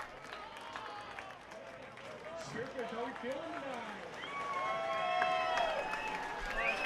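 A baseball crowd at an evening game makes a low, diffuse murmur and mild cheering that swells toward the end, with voices and whistles spread throughout and some talk on top.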